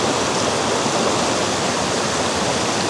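Waterfall in an autumn forest roars as a dense, steady broadband wash of falling water, loud and close, with no voices over it.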